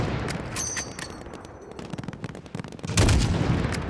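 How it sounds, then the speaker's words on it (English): Gunfire and explosions from a Modern Warfare (2019) firefight on a highway level, with dense rapid shots throughout and a louder heavy blast near the end, all fairly close and continuous. "I like the amount of time the explosion took"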